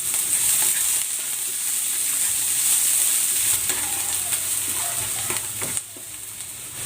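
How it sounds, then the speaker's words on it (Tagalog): Garlic and onion sauté in hot cooking oil in a pan, giving a steady, close sizzle and hiss with occasional stirring scrapes, no talk. "Igigisa ko na tong bawang."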